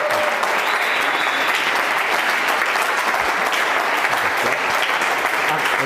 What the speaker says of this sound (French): Sous vos acclamations, accueillons ici le pasteur Jean-Claude Boulacho.